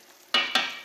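Cuttlefish and peas sizzle in a pan as they are stirred, two quick scraping swishes over a soft background fry, close and brief.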